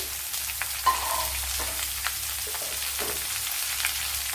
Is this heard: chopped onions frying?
yes